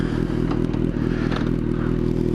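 A Kawasaki Z800 motorcycle engine runs loud and steady close by, a low harmonic idle rumble with light mechanical clatter as the bike sets off on a ride past farm equipment.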